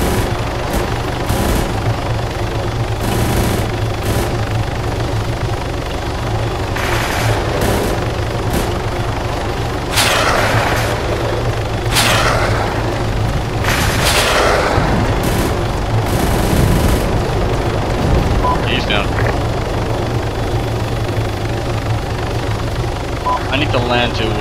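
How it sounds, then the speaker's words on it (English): Transport helicopter in the military shooter game Steal the Tanks, its steady rotor drone running loud throughout, with bursts of gunfire and impacts breaking over it and a person talking on top. "Transport chopper."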